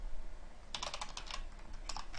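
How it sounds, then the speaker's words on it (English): Bursts of fast typing on a computer keyboard while writing Qt C++ code, irregular clusters of clicky keystrokes close up after a quiet start, with no talking. "I bet some of you are probably giggling at my horrible typing."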